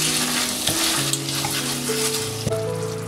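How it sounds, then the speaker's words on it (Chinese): Diced chicken frying in sweet bean sauce in a wok, a loud continuous sizzle close up with stirring scrapes and a few sharp clinks as the pieces go in. "加鸡丁进来"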